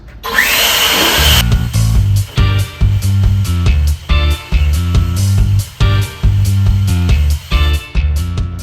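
An Ego 650 cordless handheld leaf blower, battery powered, whirs up with a loud whine and then pulses in repeated bursts of roughly half a second as the throttle is worked. It sounds loud and close, with no speech.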